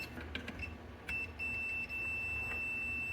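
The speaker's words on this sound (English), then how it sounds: "when you touch the two leads, you want it to beep" A steady electronic continuity beep from a multimeter comes on and holds continuously, clear and close, over faint background noise.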